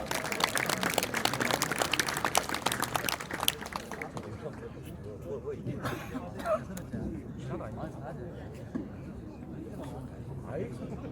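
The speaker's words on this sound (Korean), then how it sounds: "큰 박수 부탁드립니다" A crowd applauds at the opening ceremony of a jokgu (foot volleyball) tournament, with dense clapping that thins out partway through, while background chatter and voices continue.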